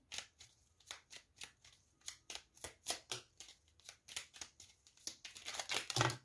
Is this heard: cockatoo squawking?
no